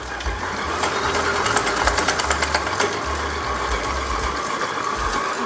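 A stand mixer kneads soft dough for honey-and-walnut pastries at medium speed, giving a steady mechanical whir with a rhythmic low thumping and faint rattles throughout.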